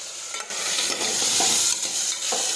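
A spoon stirs eggplant curry with cumin, chutney and turmeric in a hot pan, with loud close sizzling and scraping strokes and no talking.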